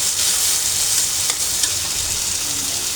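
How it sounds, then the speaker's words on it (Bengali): Tomatoes frying in mustard oil, a steady bright sizzle with a few faint pops, close and continuous with no talk. "টমেটোটা 5 মিনিট ভাজা হয়ে গেছে"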